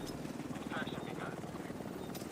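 In the video game The Division 2, an extraction helicopter hovers on site, its rotor thumping as a steady low pulsing drone heard faintly under voice chatter.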